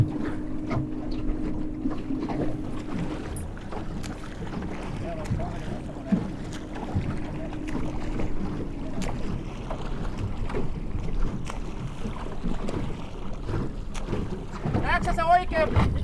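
A small boat slaps and thumps through waves on open water with strong wind buffeting the microphone, while people talk in Finnish over the steady rushing noise.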